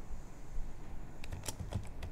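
Soft keystrokes on a computer keyboard during a Windows 11 fix, a quick burst of several clicks after a pause, faint and close against low room noise.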